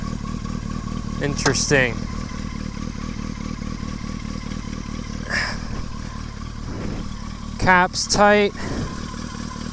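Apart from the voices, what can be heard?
Yamaha XJ650 Turbo motorcycle engine running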